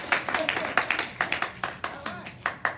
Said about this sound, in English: That's right. I'll clap for myself.